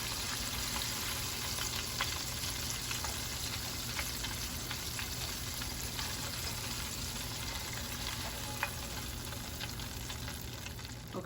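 Shrimp frying in hot oil, a dense, steady crackling sizzle that stays close and even from start to finish, with no one talking.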